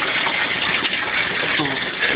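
Water gushes and gurgles steadily as a bell siphon drains a grow bed in an indoor aquaponics system, a continuous close rushing sound with no talk.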